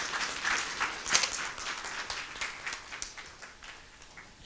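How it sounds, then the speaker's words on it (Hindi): A church congregation claps during a sermon to give thanks to the Lord, a moderate, uneven patter of many hands lasting a few seconds, with a few sharper peaks. "तालियां बजा के प्रभु का धन्यवाद कीजिए"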